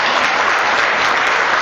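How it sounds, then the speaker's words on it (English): Dense, steady applause from an audience at a public event about New York parks, broad and continuous throughout with no gaps. "Thank you for your applause."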